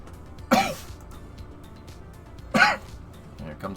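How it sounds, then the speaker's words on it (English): Two sharp throat-clearing coughs from a man, spaced about two seconds apart, close and loud against a quiet background. "Here comes the coughs again."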